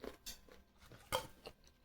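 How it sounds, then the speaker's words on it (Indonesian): Crunchy fried skin, cooked slowly over medium heat, chewed in a few faint, crisp bites with brief crackles between them, heard close and quiet with no talking. "ini dia bunyi renyah ya"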